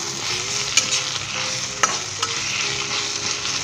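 Carrot strips stir-fry in a pan, giving a constant bright sizzle broken by a few sharp scrapes and clacks of a spatula, close up and without voices.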